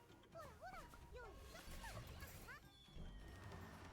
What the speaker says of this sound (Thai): หมาเห่าอะไรนะ